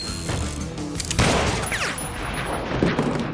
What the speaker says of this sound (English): the echo of the gunshot against the canyons confirms it for me.